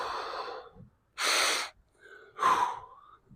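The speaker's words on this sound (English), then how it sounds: "Deep breaths, active breath always." Deep, audible breaths during a dynamic stretching warm-up, in through the nostrils and out through an open mouth, three distinct breathy pulses with one strong exhale, close and fairly quiet.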